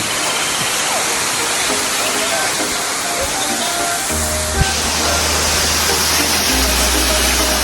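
Taktak Falls on Siargao island roars as a loud, constant broadband rush of falling water, close and enveloping throughout, with a low hum and brief knock joining partway.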